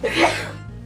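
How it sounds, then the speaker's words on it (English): A single short, breathy sneeze bursts out and fades within a second, close and fairly loud, with no talk over it. "Excuse you for sneezing"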